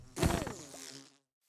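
A short insect-like buzz from a Minecraft bee, near and fairly quiet, swelling briefly and fading out after about a second, with no speech.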